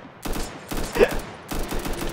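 Scar rifle gunfire in a Minecraft game: three loud bursts of rapid automatic shots, each roughly half a second long with short gaps, close and dominant, with no talking.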